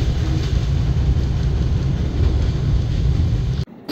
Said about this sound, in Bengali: দেখা হয়ে গেল বাংলাদেশের দীর্ঘতম রুটের ট্রেন খুলনা থেকে চিলাহাটিগামী আন্তনগর রূপসা এক্সপ্রেসের সাথে